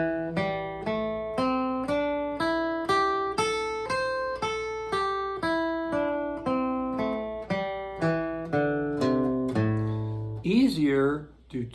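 Plucked guitar notes climb and then fall through a pentatonic scale, one clear note at a time in an even, unhurried rhythm, played close and alone before a brief sliding note at the very end.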